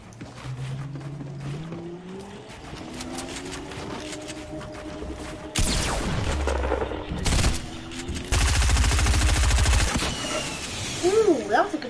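Bursts of video game gunfire, including a sustained rapid machine-gun rattle, cut in among engine-like tones and sweeping effects, at fairly high volume.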